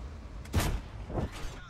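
Two booming tank cannon shots in World of Tanks-style gameplay with a Skoda T 50, the first heavy and close, the second softer about half a second later.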